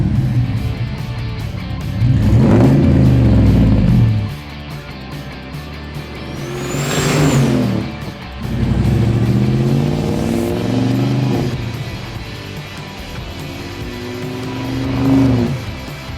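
A 1967 Pontiac Tempest fitted with an LS turbo engine revs loudly and close up in repeated bursts, with a sharp high whine rising during one big rev and the idle dropping back between the pulls.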